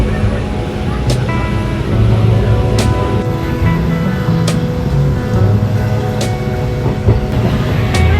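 Inside a moving passenger train, a steady rumble of wheels on rails with periodic faint clicks, and people chatting nearby over the running noise.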